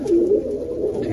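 A prize-winning racing pigeon coos close by in a low, continuous, throaty rolling coo.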